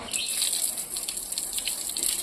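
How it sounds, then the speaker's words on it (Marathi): Tap water runs in a steady, close rushing stream at the entrance of the cliffside Shri Ganpati temple at Anjarle, Dapoli, where feet are washed before going inside. The flow is continuous and unbroken throughout. "ते बघा नळाला पाणी आहे, तर पाय धुवून आपण आतमध्ये जाऊ"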